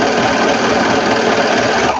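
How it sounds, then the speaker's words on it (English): A sewing machine stitches fabric for a fabric sewing container with a loud, steady, rapid whirring hum that runs without a break and cuts off at the very end. "this sewing is going much faster than the cutting did"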